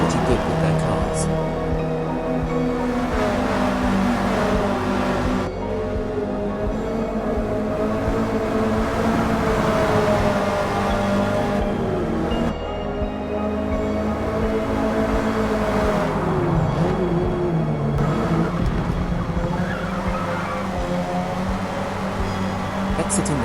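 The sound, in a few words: Volkswagen Golf GTI race car engine, Forza Motorsport video game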